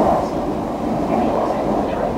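A Northern Rail train passing during a ride between Barnsley and Huddersfield, a loud, steady low rumble of rolling stock and track noise filling the whole moment.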